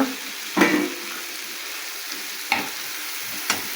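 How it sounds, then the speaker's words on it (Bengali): A large chopped tomato drops into hot spiced oil with onion and garlic, and the pan sizzles. There are three sharp frying bursts, the first loudest, each fading into a quieter hiss. "যখন মশলা থেকে এরকম তেল ছেড়ে দেবে তখন দিয়ে দেব একটি কেটে রাখা বড় একটি টমেটা"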